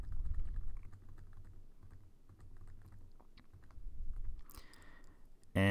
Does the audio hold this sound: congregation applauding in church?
no